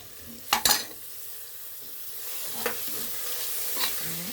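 Fresh mint and coriander leaves are stirred in a cooking pan, with a couple of quick scraping strokes near the start and softer ones later over a faint, steady sizzle.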